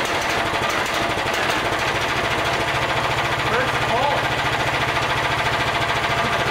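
Club Car GX420 golf cart engine running close up with a steady, rapid chugging thump and a rough mechanical rattle throughout, while a voice speaks faintly over it.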